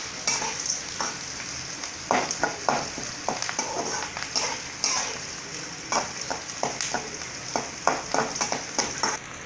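Sliced big onions sizzle and crackle in hot oil for a Tamil cabbage fry, a steady hiss broken by repeated scraping stir strokes throughout, close and moderately loud with no talk.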